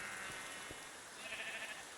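Faint sheep bleating from a survival video game, a soft, brief call heard at low level under a steady background hiss.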